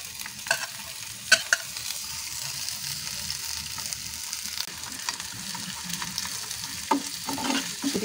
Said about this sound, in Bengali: ঝুরো গোশ বা গোশ ভাজার জন্য এই যে পেঁয়াজ রসুন আর কাঁচা ঝাল দিয়ে দিচ্ছি